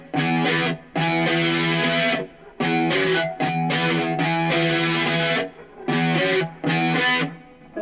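A loud, distorted fretless cigar box guitar riff, played in repeated phrases separated by short pauses, with no voices.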